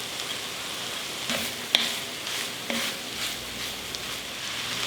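Smoked brisket drops onto softened vegetables in a hot pot, giving a soft steady sizzle with a few light clinks from the utensils.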